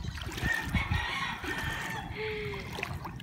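A chicken clucks and crows faintly against a background of trickling water and low ambient noise.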